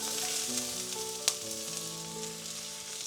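Onions and steak frying together in a pan, giving a steady close sizzle throughout with one sharp clink partway through, and no talking.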